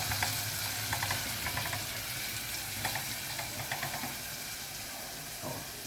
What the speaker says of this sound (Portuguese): Deixei em fogo alto no início só para refogar